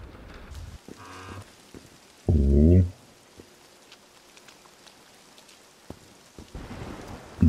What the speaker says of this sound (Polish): Deszczyk pada, jest burza.